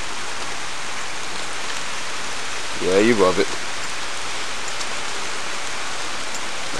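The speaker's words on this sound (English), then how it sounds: "Rain's coming." Steady rain falls around a Chevy with a sunroof, a broad hiss of drops spread evenly across the whole clip, with a brief spoken phrase near the middle.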